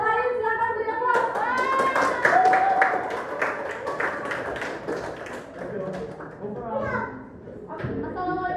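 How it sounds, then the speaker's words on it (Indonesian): Classroom audience of students applauding group six at a dance-education performance assessment: steady scattered clapping throughout, with overlapping children's voices chattering and calling out. "Yang lain silakan beri aplaus."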